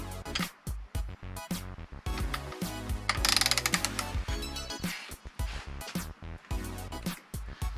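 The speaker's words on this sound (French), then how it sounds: "Douille de 16. Ok, et je vais venir la resserrer." A ratchet with a 16 mm socket tightening the oil filter housing on a BMW E46 330, rapid clicking pawl strokes in repeated bursts with short pauses, close and fairly loud.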